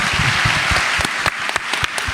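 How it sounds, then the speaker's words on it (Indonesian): An audience applauds at an Indonesia Awards ceremony with steady, dense clapping that runs loud for the whole stretch, scattered sharper individual claps standing out near the end. "Boleh tepuk tangan dulu dong."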